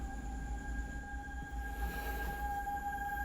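A train passes with a low rumble of wheels and a faint squeal, steady and moderately distant, heard alone.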